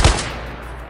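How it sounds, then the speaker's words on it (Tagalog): A single loud gunshot sound effect cracks at the start of a narrated Tagalog story, then a long reverberant tail fades away. "May namaril sa kanya."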